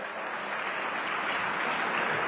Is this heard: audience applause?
yes